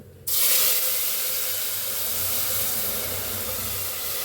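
Water poured into hot ghee with cumin and bay leaf in a pressure cooker erupts in a sudden loud, steady sizzling hiss that holds for a few seconds, then cuts off.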